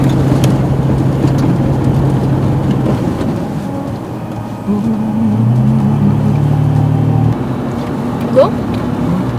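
A Toyota FJ Cruiser drives through desert sand at Jabal Hisma in Saudi Arabia, its engine droning and revving with shifting pitch under rumbling wind noise.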